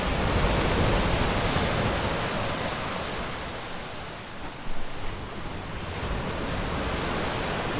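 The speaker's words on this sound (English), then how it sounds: "I love the sound of the waves crashing against the rocks" Sea waves crash against rocky ledges on the Dorset coast at Dancing Ledge near Langton Matravers on a summer's day, a loud, continuous roar of surf and spray that swells and dips slightly throughout, with no voices.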